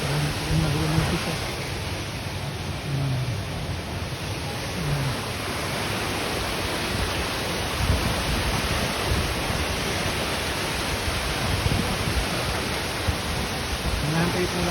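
A waterfall pours with a strong, fast current at a tourist bathing spot, its steady broadband roar close and continuous throughout, with faint voices now and then beneath the rushing water.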